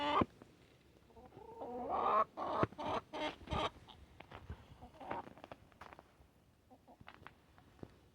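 Chickens and roosters cluck and call near and far in a farmyard flock, short busy bursts of clucking and squawks with a few scattered footsteps and soft movement between them.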